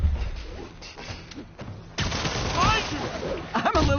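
Enemy gunfire from the Spider-Man PS4 video game, bursts of shots crackling under voices after a quieter opening, with a sharp whistling streak midway and a loud thump near the end.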